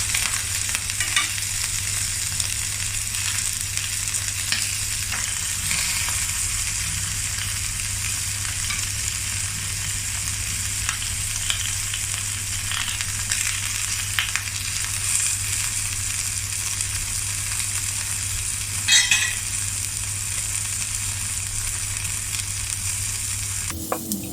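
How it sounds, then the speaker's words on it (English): Honey garlic shrimp fry in a pan over medium heat with a steady, loud sizzle. Occasional scrapes and stirring knocks come as the shrimp are flipped, close up and without voices. "Flip over the shrimps so that it's evenly brown at all sides and slightly charred at the edges."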